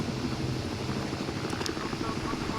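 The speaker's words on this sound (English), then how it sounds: "which will attract the helicopter" Helicopter in the video game Battlefield Hardline, its steady rotor drone filling the background at a constant level through the whole stretch, with no voices.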